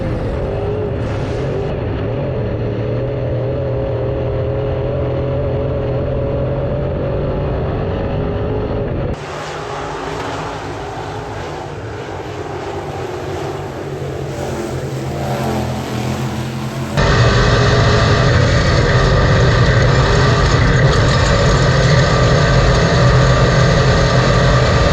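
Race cars coming off turn 4 on the opening lap of a race roar loudly, with engine drone shifting in pitch and intensity as the field passes in waves.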